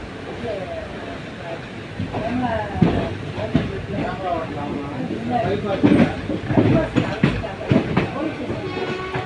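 A passenger train rolls into Erode Junction, with wheels clattering and rhythmic clicks over rail joints along with hissing, growing busier toward the end, while people talk nearby.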